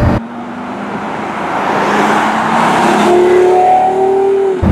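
The Porsche Carrera GT's engine, heard from the cabin, swells in a loud rising rev, its tone climbing and sharpening into a clear whine during the second half before cutting off abruptly.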